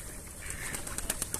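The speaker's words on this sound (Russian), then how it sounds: "И вот эти вот уточки, и голуби." Pigeons flutter nearby at a city pond in autumn, a quick series of sharp wing flaps in a rough rhythm toward the end, with faint bird sounds under steady outdoor noise.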